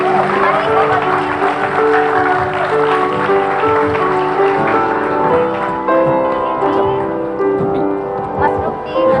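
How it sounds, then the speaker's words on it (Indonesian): A television talk-show studio audience applauding guests onto the stage, with clapping mixed with background music and some crowd voices, fairly loud and sustained. "Langsung saja kita kasih tepuk tangan untuk Luffy dan Sami."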